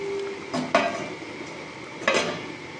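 A metal lid lifted off a cooking pot of potol chingri curry on the stove, two close clanks of metal against the rim over a steady low kitchen hiss, no talking.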